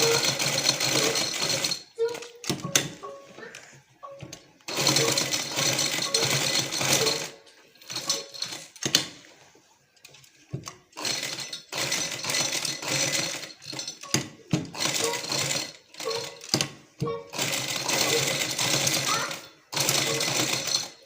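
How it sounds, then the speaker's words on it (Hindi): A sewing machine stitches a design onto a trouser hem in repeated rapid bursts of clattering, each a few seconds long with brief pauses between, close by. "इसी धागे को सेम इधर लाकर ये वाली पत्ती के ऊपर भी सिलाई अटैच की"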